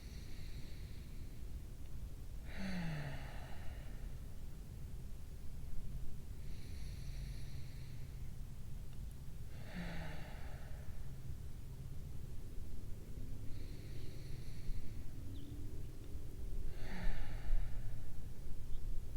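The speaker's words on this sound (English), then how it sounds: "Keep breathing." Slow deep breathing by partners doing a grounding relaxation exercise, five soft airy breaths spaced a few seconds apart, faint and close over a quiet background hiss.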